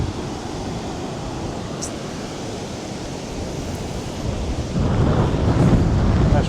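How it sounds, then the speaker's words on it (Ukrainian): Strong wind buffeting the microphone on a shell-covered Florida beach at Saint Augustine, with surf roaring beneath; a dense rumbling noise that gusts harder and louder in the last seconds, no voices. "Вітер такий сильний став."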